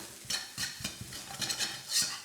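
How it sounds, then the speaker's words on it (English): Seafood fried rice with spring onions being stirred in a pan, a series of quick scraping and clattering strokes over a faint sizzle, close and moderately quiet, with no talk. "Give it a quick stir."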